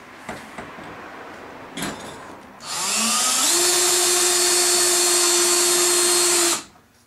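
A drill drives screws through two layers of plastic on a Lifetime compost tumbler: a few knocks, then one loud, steady motor whine that rises slightly in pitch and holds for about four seconds before stopping abruptly.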